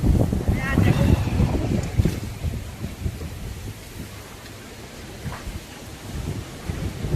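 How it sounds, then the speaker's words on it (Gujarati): Strong storm wind buffets the microphone outside a house, a loud rumbling gust at first that eases into a steady windy roar, with a voice speaking over it. "બહાર બહુ પવન ચાલુ છે."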